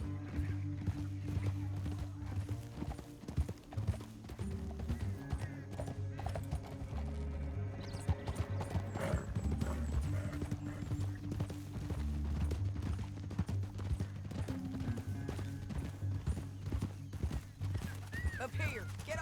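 Horse hooves clip-clop in Red Dead Redemption, a steady trotting rhythm under game music and occasional voices.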